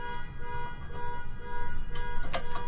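A neighbor's car alarm sounds in the background, heard as a steady tonal blare with brief horn-like bursts near the end, moderately loud and continuous throughout with no talking.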